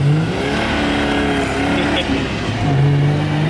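A ute engine winds up hard to redline, pitch climbing steadily to a peak before dropping, then rising again, loud and close, with a voice briefly over it.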